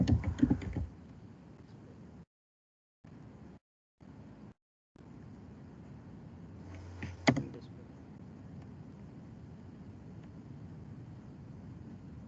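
Keystrokes on a computer keyboard while code is written, a soft patter of taps with a louder burst at the start and a sharp click near the middle, broken by brief gaps of silence.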